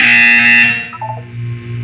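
An electronic buzzer from the video game Portal 2 sounds a loud, steady synthetic tone that cuts off, followed by a few short electronic blips and a low hum.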